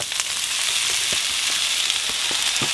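Fresh corn cut from the cob and broccoli fry in hot oil with garlic, giving a loud, steady sizzle with light crackles and the scrape of stirring, no voices.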